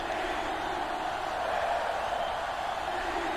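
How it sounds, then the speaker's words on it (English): A sellout stadium crowd roars in the college football video game NCAA Football 2005, a steady broad wash of massed cheering and noise that holds at a constant level throughout. "This sellout crowd is really making a difference now as these guys can't even call the play."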